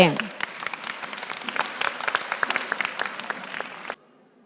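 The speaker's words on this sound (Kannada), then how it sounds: "ಅವರಿಗೊಂದು ಚಪ್ಪಾಳೆ" An audience at a Christmas Eve church program claps for a children's dance, with brisk, scattered handclaps that build and hold for several seconds and then stop abruptly into near silence.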